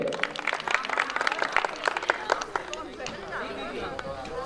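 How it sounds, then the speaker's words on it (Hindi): An audience at a stage show breaks into loud, dense applause that thins and fades toward the end, with crowd chatter and a voice mixed in. "दोस्तों जोरदार तालियां एक बार उनके लिए"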